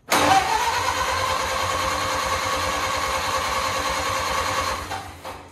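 Barn-find Ford Model A engine cranking, catching and running, a loud, rapid, rough chugging mechanical rhythm that holds steady for several seconds, then cuts off abruptly near the end.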